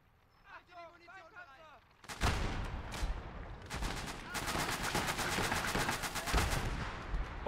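Mortar fire and gunfire in the video game Gates of Hell, a battle at La Vallee: after a moment of quieter chatter, loud booming blasts break out and rapid gunshots crackle on and on in dense bursts.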